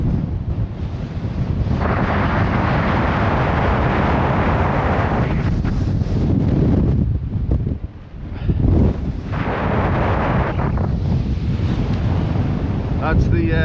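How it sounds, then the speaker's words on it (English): Strong, steady wind roars across an exposed Scottish mountain summit in March, buffeting the microphone in loud continuous gusts with a brief lull near the end, and a voice speaks faintly underneath. "Very windy though."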